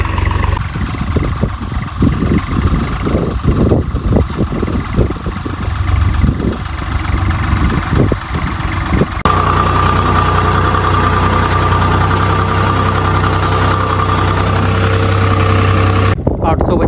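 A New Holland tractor idles on a soybean farm, its engine rumbling with uneven low knocks at first, then settling into a smooth, loud, steady drone for the second half.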